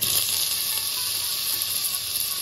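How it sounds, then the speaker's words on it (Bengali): Mustard oil and bitter gourd sizzle steadily in a pan, a close, even crackling hiss that holds throughout without pause. "এবার আমি উচ্ছে ভাজার জন্য সরষের তেল দিয়ে দিচ্ছি।"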